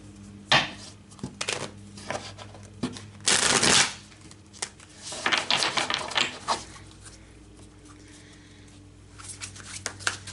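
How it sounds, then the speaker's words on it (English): Tarot oracle cards with jagged edges being shuffled by hand, several bursts of riffling and tapping, the loudest near the middle, close up with no talk. "So I'm just going to shuffle and then flip one"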